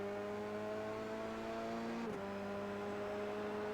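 On-board race car engine from an SCCA Pro FR Americas car lapping a slippery track, a steady loud drone with strong harmonics that dips in pitch briefly midway, then holds constant.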